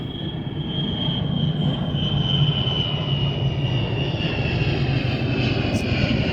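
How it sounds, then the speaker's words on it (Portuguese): An airplane passes overhead with a loud, steady engine roar and a sustained high whine, continuous throughout with no talk over it. "Está passando um avião."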